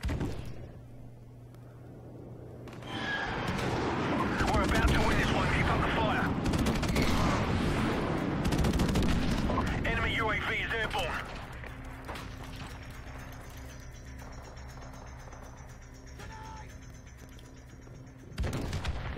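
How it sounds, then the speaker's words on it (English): Friendly airstrike explosions in Call of Duty: Modern Warfare Remastered, a dense stretch of heavy booms and rumbling blasts mixed with gunfire that swells loudly and then slowly tails off, with voices over the combat. "Friendly airstrike on the way."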